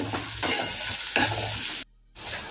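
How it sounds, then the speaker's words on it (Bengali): Two large sliced onions fry gently over low to medium flame, with a steady close sizzle broken by rhythmic spatula scrapes and stirs, then a brief silent cut before the hiss resumes. "পেঁয়াজটা একটু হালকা ভাজা ভাজা করে নেব।"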